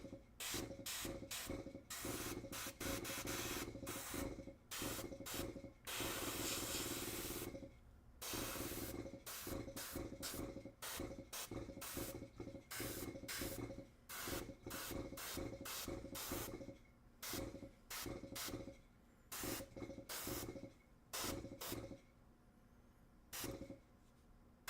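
An airbrush sprays paint onto miniature armour in many short hissing bursts of a second or two each, separated by brief pauses and heard quietly and close up.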